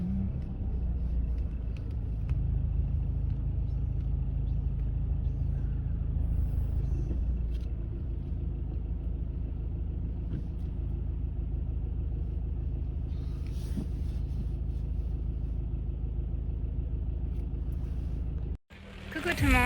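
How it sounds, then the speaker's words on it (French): Truck engines rumble steadily at a truck gathering on the Atlantic coast, a continuous low drone close by with voices talking over it, cut by a brief dropout near the end. "Très méga beaucoup de camions."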